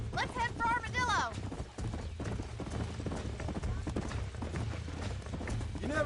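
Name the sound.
horse hooves clip-clopping in video game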